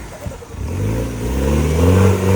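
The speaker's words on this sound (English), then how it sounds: "Turbo noises." A Land Rover Discovery 1 engine revs and climbs in pitch while stuck in a river, its rising drone swelling steadily louder over a couple of seconds, with no talking.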